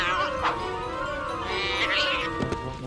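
A cartoon cat meows in a tonal, wavering cry, with voices and music from the animated show layered around it at a steady level.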